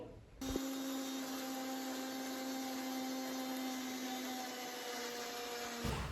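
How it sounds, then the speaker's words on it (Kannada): A mixer grinder whirs steadily while grinding aloe vera in its jar, starting abruptly and running with a constant high motor whine before cutting off near the end. "ಇದನ್ನು ನಾನು ನೀಟಾಗಿ ಮಿಕ್ಸಿಲಿ ಗ್ರೈಂಡ್ ಮಾಡ್ಕೊತೀನಿ"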